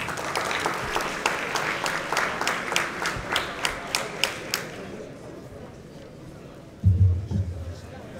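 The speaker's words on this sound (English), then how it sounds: "Let's give him a big round of applause" Audience applause at a high school football banquet for a coach, a dense clatter of many hands that thins into a few scattered, distinct claps before fading out, with a low bump of room noise near the end.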